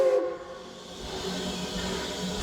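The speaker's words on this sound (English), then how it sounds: "And then one blast on the whistle." A short, shrill steam locomotive whistle blast opens, then gives way to a steady rushing hiss of steam that carries on to the end.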